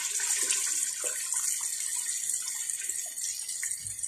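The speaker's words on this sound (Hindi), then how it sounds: "तो चले मैं पानी डाल देता हूँ।" Water poured into a pot of chicken curry, a continuous hissing splash from tap or jug running steadily close by with no talk over it.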